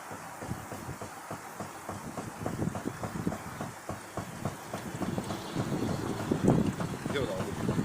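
A car at speed knocking into the engine, heard as a rapid, regular train of thuds over steady road and wind roar that grows louder toward the end, with someone speaking over it.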